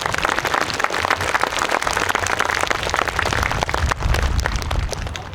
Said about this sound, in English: Let's give him a nice round of applause if we could.